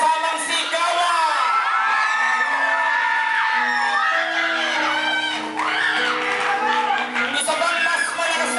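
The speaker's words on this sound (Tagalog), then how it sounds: "Palakpakan na may kasamang sigawan." An audience claps while shouting and cheering loudly at an indoor event, a dense sustained crowd roar full of whoops and yells, with louder bursts throughout.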